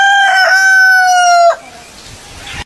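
A rooster gives one loud, close crow, a sustained tonal call lasting about a second and a half before trailing off into quiet.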